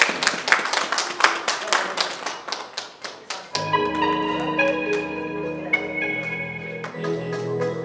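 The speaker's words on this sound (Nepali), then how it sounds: "जोरदार तालीले सम्मान गरिदिनु हुन पनि म नम्र निवेदन पेश गर्दछु" Audience at a school debate competition clapping in a brisk, uneven burst of applause that fades after a few seconds, followed by a sustained electronic keyboard-like musical tone with steady notes.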